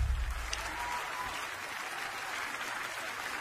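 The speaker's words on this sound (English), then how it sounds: "Keep clapping, keep clapping." Steady hand clapping from a church congregation during worship, a dense, even wash of applause that carries on for the whole stretch at a moderate, roomy level.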